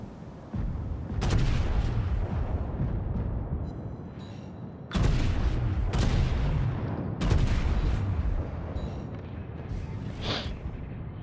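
Heavy battleship gun salvos in World of Warships, three loud booming blasts at roughly even spacing, each with a long rumbling tail.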